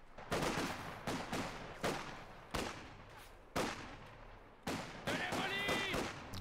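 Heavy machine gun fire in a strategy war game, delivered in repeated short bursts roughly every second, each a sharp crackling volley that tails off, fairly close and loud, with a brief radio-like tone near the end.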